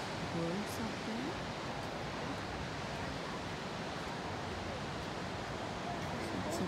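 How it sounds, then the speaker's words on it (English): Ocean waves crash on the shore at Kilauea Point, Kauai, a coastal bird refuge, making a steady broadband wash of surf throughout, with a few faint bird calls near the start. "And beautiful waves crashing."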